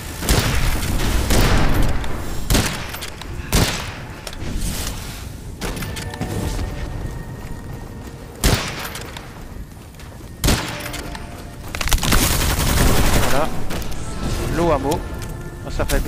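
Gunfire booms through the video game Witchfire, heavy shots and thuds landing irregularly amid a continuous loud rumbling game soundscape, with someone talking over it.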